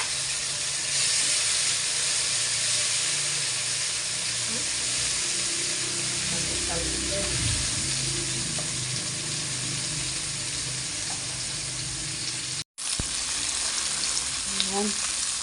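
Onion and tomato sauté in a hot pan with a steady, close sizzling hiss and occasional stirring scrapes, continuing almost unbroken throughout.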